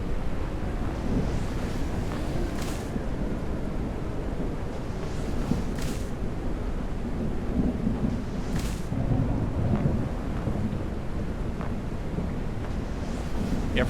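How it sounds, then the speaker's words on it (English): Low, rolling thunder rumbles in the distance over steady wind in the Snow Plowing Simulator game world, a continuous muffled roar with no voices. "Ooh, the thunder in the background."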